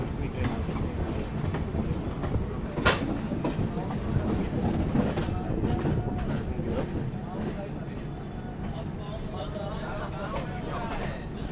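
Tamil Nadu Express train departing, heard from inside the pantry car: steady rumble and rhythmic clickety-clack of wheels with occasional metallic clanks, under intermittent talk.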